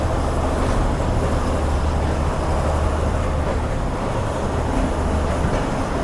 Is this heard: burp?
no